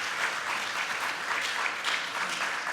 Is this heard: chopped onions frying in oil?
no